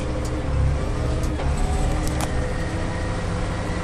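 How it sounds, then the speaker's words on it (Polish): A Case Maxxum 5140 tractor pulls away without the clutch, its engine a loud steady low drone with rattling and a few sharp knocks, heard close from the cab. "bez sprzęgła, ruszam jeszcze troszkę odpuszczę ok i możemy jechać"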